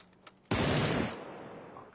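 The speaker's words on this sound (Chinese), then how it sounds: "这个枪声把自己的脚步盖住了" A sharp burst of automatic gunfire in the video game PUBG erupts suddenly and loud, then decays over about a second.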